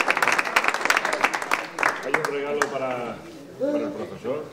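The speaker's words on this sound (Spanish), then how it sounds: "Un aplauso." A group at an outdoor school cultural gymkhana for Andalusia Day gives a short burst of scattered hand claps, thinning out after about two seconds as people start talking over the last few claps.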